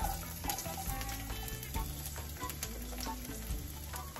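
Garlic fries in hot oil with a dense, steady sizzle and crackle, up close, with occasional stirring clinks and scrapes.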